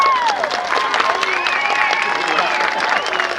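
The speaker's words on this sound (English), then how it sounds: "Hold the applause." Crowd at a night dive show at Six Flags Great Adventure applauding and cheering loudly and continuously, with whistles and voices mixed into the clapping throughout.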